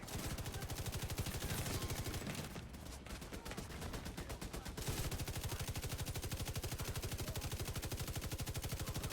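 Video game turrets fire continuous rapid automatic bursts, a loud, dense machine-gun rattle that briefly thins mid-stretch before resuming at full intensity.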